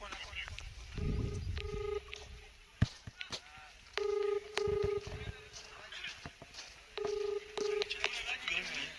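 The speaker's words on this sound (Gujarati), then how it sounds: "તમે એકવાર રિંગ કરો ને, સ્પીકરમાં રાખો ને." A mobile phone on speakerphone at a crowded lucky draw event gives out repeated electronic beeps in short regular bursts, like dialing and ringing tones. Murmuring voices and background chatter from people nearby continue underneath.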